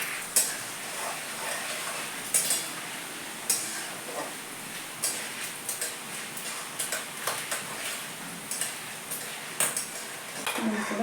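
Sago pearls fry in hot oil with a continuous bubbling sizzle, broken by frequent metallic taps and scrapes of a slotted spoon against the pan, close up.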